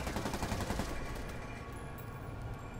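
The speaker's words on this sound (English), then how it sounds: "This guy's shooting up the police?" Criminals fire guns in the Spider-Man video game, a dense, loud rattle of rapid automatic shots that continues without pause, with no voices over it.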